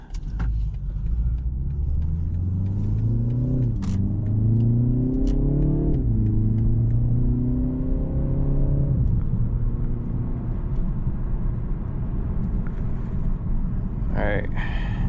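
BMW car on a highway, filmed from a point-of-view camera mount, with a steady loud engine and road rumble as it accelerates through rising gear pulls and then cruises along, the engine note climbing and dropping between shifts.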